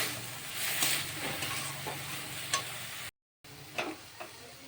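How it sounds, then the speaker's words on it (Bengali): Ginger-garlic paste stirred into fried onions in a pan for a brinjal dish, a steady sizzle with scraping stir strokes and a few sharp clinks, close and moderately loud, with a brief dropout midway. "আদা রসুন বাটাটা দিয়ে আমি একটু নেড়ে নেব"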